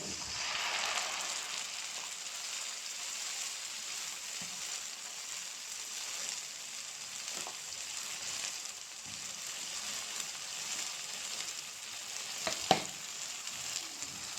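Ginger, garlic and onion paste frying in a pan, a steady bright sizzle running continuously with a few clinks of stirring near the end, close and alone without talk.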